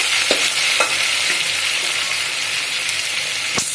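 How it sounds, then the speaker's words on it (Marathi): Onion sizzles in a hot pan, a loud, steady hiss of frying close by, broken by a few brief clicks and scrapes of stirring, with no one talking. "आपला आता इथे कांदा आपण फ्राय करायला ठेवूया"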